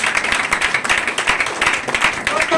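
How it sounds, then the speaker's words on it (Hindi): Dense rapid clapping from a large audience at a live talk in Odisha, loud and steady for the whole stretch with a bright, crackling texture and a faint voice underneath. "आप लोग को अपने लिए एक बार जोरदार ताली करने के लिए मैं बोलता हूँ"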